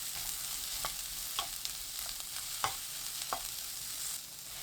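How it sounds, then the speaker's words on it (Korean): Sliced celery and minced garlic stir-frying in cooking oil in a pan over high heat, a quiet steady sizzle broken by a few sharp clicks and scrapes of stirring. "지글지글 소리 나면 샐러리 넣고 1분 볶아주세요"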